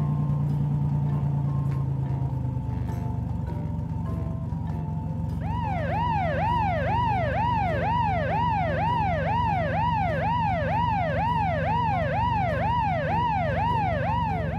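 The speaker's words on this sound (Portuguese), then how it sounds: "Esse é o caminhão dos bombeiros." A fire truck siren starts after a few seconds of low traffic rumble, then wails in a fast, regular rise-and-fall cycle that repeats loudly and steadily to the end.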